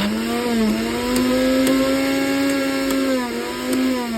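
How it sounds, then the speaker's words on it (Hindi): A Unitech mixer grinder being test-run during repair, its motor whining loud and steady near at hand with a strong sustained hum that rises slightly and holds throughout, no voices. "ये यूनिटेक कंपनी की मशीन है भाई मिक्सी, तो इसको चला के चेक करते हैं।"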